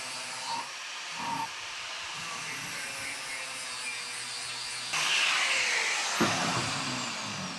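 A trimmer tool cutting material off a custom under-dash gauge pod for a 1934 Ford Pomona panel truck, giving a continuous high whining hiss that holds steady, then gets louder and harsher partway through, with a few small knocks.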